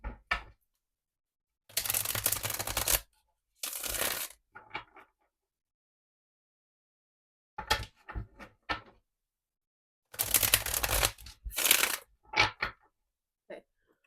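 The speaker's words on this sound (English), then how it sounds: "As we shuffle these cards" Tarot cards are shuffled in several separate riffling bursts, crisp and close, with quiet pauses and a few soft taps between them.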